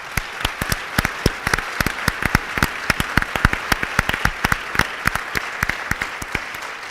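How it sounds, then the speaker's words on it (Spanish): Dense audience applause at a Spanish-language talk, with sharp overlapping claps in a steady, busy rhythm that stays loud and even throughout. "a mí me molaría que le dierais un aplauso a todos los que veis ahí"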